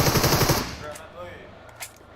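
Burst of rapid automatic gunfire in PUBG Mobile, loud and close for about half a second, then fading into a quieter tail with a faint voice and a small click.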